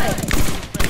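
Fortnite video game gunfire rattles in a rapid cluster of loud, close shots over about a second, with a voice briefly audible underneath.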